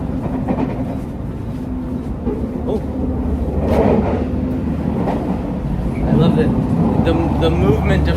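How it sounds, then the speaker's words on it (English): A Japanese scenic train rolls along its rails on the Sea of Japan coast line, a steady low rumble with faint rattling from the carriages and continuous talk over it. "The movement of the train."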